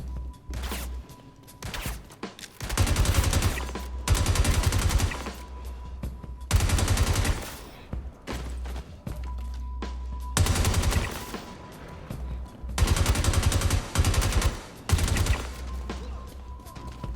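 An FS-9 LMG fitted with a size 2 compensator fires in Star Citizen, loosing long sustained bursts of rapid automatic gunfire broken by brief pauses, loud and close.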